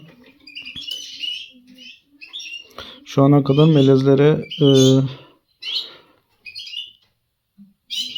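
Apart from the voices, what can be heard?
hybrid finch singing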